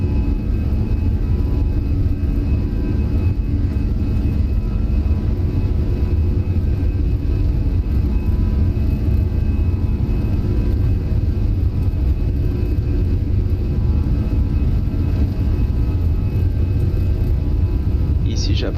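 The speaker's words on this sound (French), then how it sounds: "on poursuit le décollage" Airbus A320 engines at takeoff thrust during the takeoff roll, heard as a loud, steady, low rumbling roar that holds without a break for the whole stretch.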